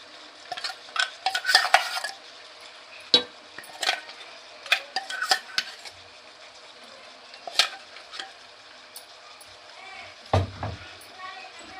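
Ground fish masala being mixed into fish pieces in hot oil, with a series of sharp spoon scrapes and clinks against the pan, irregular and close, over a faint sizzle, with a low thump near the end.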